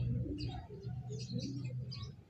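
Racing pigeons coo softly in a loft after a rainy race, a few low repeated coos close by with light chirps mixed in, fairly faint overall.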